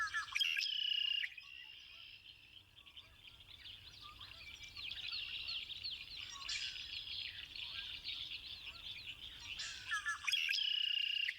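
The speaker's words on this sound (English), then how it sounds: "Red-winged blackbird. Those are my favorite. Those are my favorite bird. When they sing, it's just..." A red-winged blackbird sings outdoors on a chilly morning: a bright, buzzy trill opens and closes the passage, with continuous chattering bird calls between, moderately near over a faint low rumble.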